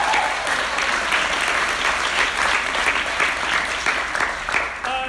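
Audience at an improv comedy show applauding, dense sustained clapping with a few cheers filling the room for the whole stretch, loud and continuous before tapering slightly at the end.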